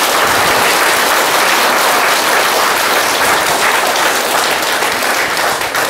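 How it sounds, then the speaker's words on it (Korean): Sustained applause from a large crowd of around a thousand people at a political talk show gathering in Busan, steady and loud throughout without a break. "여러분 박수 안 치십니까?"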